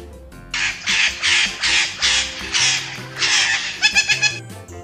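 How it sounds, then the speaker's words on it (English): A parrot squawks in a series of about seven harsh, loud calls in a steady rhythm, ending in a few quicker clipped squawks over a soft musical backing. "P for parrot."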